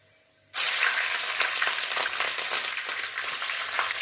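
Green chillies hit hot oil with cumin for a chicken curry, bursting into a loud, sudden sizzle after a quiet moment, then a steady crackling fry with scattered pops, close up.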